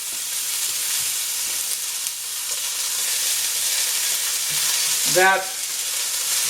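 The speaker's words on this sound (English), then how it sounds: "So while these carrots are sauteing" Carrots sautéing in a pan give a steady soft sizzle and hiss throughout, with a brief squeak or scrape near the end and one faint spoken word.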